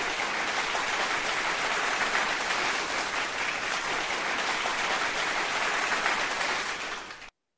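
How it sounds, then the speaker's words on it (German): A dense, even wash of audience applause goes on for about seven seconds at a steady level, then stops abruptly, at a German-language gathering of listeners of a talk radio show. "jetzt mal ganz kurzen Applaus noch für euch alle"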